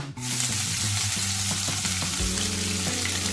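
Chana dal and green chillies fry in hot oil in a pan, a steady close sizzle with occasional stirring clatter and no talking.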